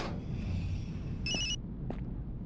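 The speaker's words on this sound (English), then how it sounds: "It sounds like a phone" Phone ringing in the Largo Winch: Empire Under Threat video game, a short electronic trill burst followed by a fainter second ring over a low ambient hum, with no talk.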